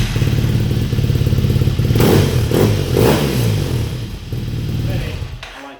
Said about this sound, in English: a nice Scorpion silencer. Sounds pretty nice.